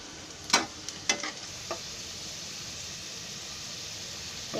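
Onion frying in a pan for crab curry, a soft steady sizzle with a few sharp scraping stirs near the start, then an even hiss, close and fairly quiet.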